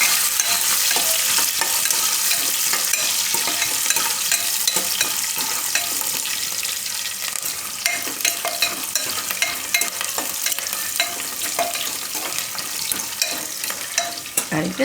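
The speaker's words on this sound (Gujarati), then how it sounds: "આ રીતે તેલમાં નાખીએ એટલે સિંગદાણા એમાં શેકાઈ જાય. થોડીક વાર ફેરવી લેવાનું." Peanuts roast in hot oil for sama flower khichdi while being stirred, a bright crackling sizzle with busy rattling and scraping of the spoon throughout, close and unbroken by speech.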